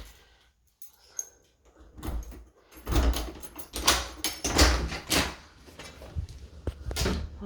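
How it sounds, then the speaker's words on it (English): A door in an empty rented house is handled and swung open, with a series of clunks, rattles and knocks of uneven strength building up over several seconds, close and fairly loud in a quiet room. "I'm going to open this door as well, just to get some air in."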